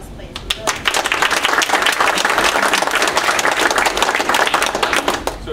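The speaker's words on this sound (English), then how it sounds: "And I just give him a warm round of applause, please." A meeting crowd gives a warm, steady round of applause for a speaker, a dense wash of many hands clapping at once that holds at an even level throughout.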